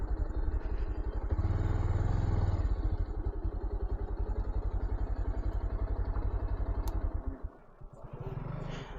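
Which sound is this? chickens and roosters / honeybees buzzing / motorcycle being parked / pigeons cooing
motorcycle being parked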